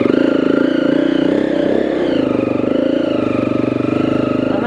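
A motorcycle climbing a gradient on a ride, its engine droning loud and steady with a fast, even pulsing throb and a slight labouring rise, heard from on the bike.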